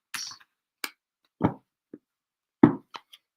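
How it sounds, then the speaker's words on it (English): Tarot-style reading cards being shuffled and handled, a series of separate soft taps and slides with brief pauses between them, close and fairly loud against silence, with no voices. "first I have to shuffle the cards and to put the cards into it."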